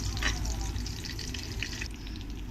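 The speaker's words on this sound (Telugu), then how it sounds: "వెల్లుల్లి దంచుకొని కొద్దిగా లైట్గా, ఇందులోనే కరివేపాకు వీటిని బాగా వేయించుకొని" Crushed garlic and curry leaves fry in oil with a steady, close sizzle that continues briefly without pause.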